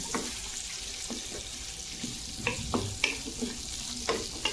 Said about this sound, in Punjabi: ਥੋੜੀ ਘੱਟ ਗੈਸ ਤੇ ਭੁੰਨਣੇ ਦੇਖ ਲਓ ਮੈਂ ਪਿਆਜ਼ ਥੋੜਾ ਜਿਹਾ ਭੁੰਨ ਦਿੱਤਾ